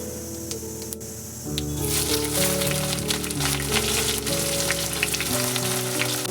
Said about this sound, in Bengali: ফোড়নটা ভাজা হয়ে গেছে এবার আমি এর মধ্যে দিচ্ছি পেঁয়াজ কুচি